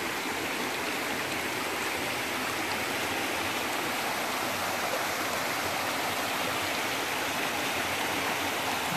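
A stream in the eastern Mecsek hills of Hungary rushes steadily nearby, a constant broadband babble of flowing water with no pauses or voices.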